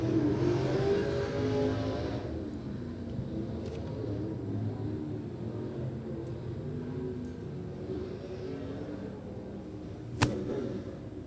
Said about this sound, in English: Green flag racing.